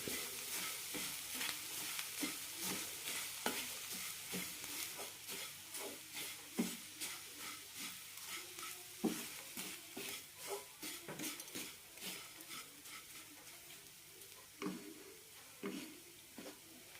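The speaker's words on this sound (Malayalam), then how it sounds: "മസാലയുടെ പച്ചമണം പോകുമ്പോൾ അവിലിടാം നന്നായി മിക്സ് ചെയ്യാം" Ragi poha upma with masala is stirred in a pan. A spatula scrapes and clacks against the metal in a steady, repeated rhythm over a faint background sizzle, with no talking.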